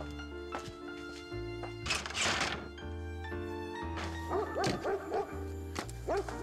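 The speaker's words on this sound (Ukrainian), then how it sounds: "Чого ти гавкаєш, гад?" A dog barks in repeated yips and bow-wows, fairly close, against a dramatized scene with a steady musical score beneath.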